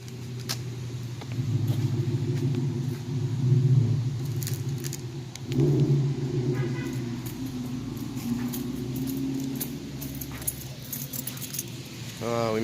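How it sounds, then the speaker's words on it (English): A Ford Mustang engine rumbles from the neighboring bay of a car wash, a low, steady burble that swells now and then, with some metallic jingling and faint voices nearby. "Sounds like somebody's got a Mustang in the other bay."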